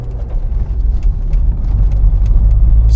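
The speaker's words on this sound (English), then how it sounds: "This glorious sounding V8" A 2007 Chevrolet Corvette Z06 V8 rumbles with a deep, low engine note that swells steadily louder over a few seconds, heard close and without talk.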